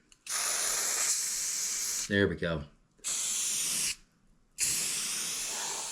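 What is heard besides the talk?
spray painting a rifle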